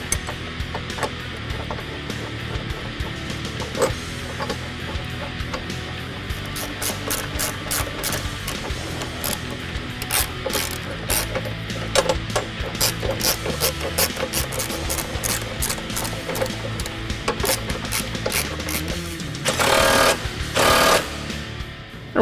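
Ratchet wrench driving the alignment bolts on a 2015-2022 Ford Mustang during a lowering spring install, with rapid repeated clicks in dense bursts, close and loud, against continuous mechanical background noise.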